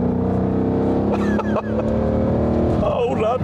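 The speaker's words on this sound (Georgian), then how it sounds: "აქსელერაციის პედალს დააჭერ ხმა აქვს, სიჩქარეს ჩამოვიტან ხმა აქვს" A car engine hums steadily and rises in pitch as it revs, with a person speaking over the engine noise.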